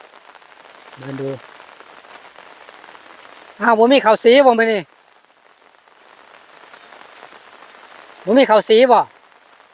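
Rain falls steadily as a soft background hiss while someone speaks in short bursts over it.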